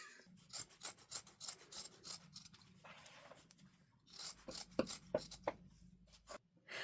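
Scissors trimming excess fabric from a quilted patchwork top made from thrifted quilted pillowcases, heard as a quiet, close run of rasping snips and cloth rubs in uneven bursts with no talking.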